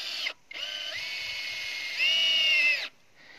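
A power drill running steadily at close range while boring to trace a buried water line, holding one droning tone that rises in pitch partway through before it stops after a short break, with no talking.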